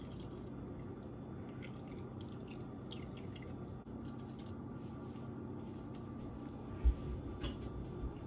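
Apple juice drips slowly through cheesecloth, faint irregular drops ticking over a soft steady background hum, with one brief louder knock near the end.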